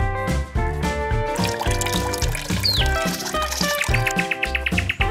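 Water poured from a can onto garden bushes, a continuous trickling splash laid over bright cartoon background music.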